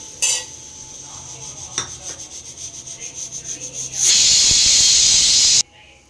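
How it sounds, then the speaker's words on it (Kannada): Hot oil crackles and hisses loudly as chana dal, urad dal, cumin and mustard seeds hit the pan, a sudden steady sizzle after some clinking and scraping, then it cuts off. "ಎಣ್ಣೆ ಕಾಯ್ದಿದೆ. ಇವಾಗ ಒಗ್ಗರಣೆಗೆ ಕಡಲೆಬೇಳೆ, ಉದ್ದಿನಬೇಳೆ, ಜೀರಿಗೆ, ಸಾಸಿವೆ ಹಾಕೋತಿದ್ದೀನಿ."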